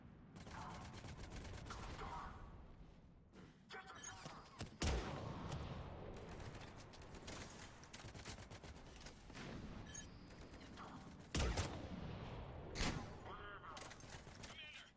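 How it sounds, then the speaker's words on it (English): Mortar fire in the Mass Effect 3 video game: heavy booms and crackling bursts of gunfire roll through a battle din, with two sharp loud blasts standing out, and voices talking over the fighting. "Commander, we're getting a lot of mortar fire."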